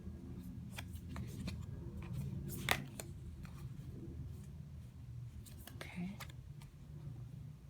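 Thick square oracle cards are shuffled with soft papery riffles and sharp flicks in irregular bursts, close and quiet over a low room hum.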